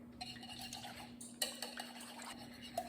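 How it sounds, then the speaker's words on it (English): A whisk clinks against a bowl as red velvet cupcake batter is mixed with eggs, making quiet, fairly steady tapping and scraping over a constant low hum. "So now we're gonna whisk it all together."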